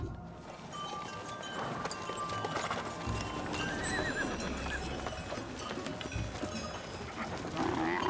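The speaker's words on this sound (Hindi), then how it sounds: "वो देखो घोड़े आगे नहीं जा रहे" Horses neigh and whinny over a steady clip-clop of hooves in a period drama series, with a dense, continuous herd sound and no talking.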